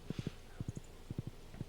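Horse hooves clip-clopping in the Stardew Valley video game, four quick groups of three soft thuds each in an even trotting rhythm, moderately loud against a quiet background.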